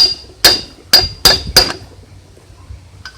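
Four sharp metallic hammer strikes tapping a rear wheel bearing into a 1980 Honda Goldwing GL1100 wheel through a pipe, spaced irregularly over about a second and a half, then a faint clink near the end.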